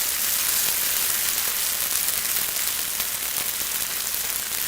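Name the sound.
sambal sizzling and being mixed in a pan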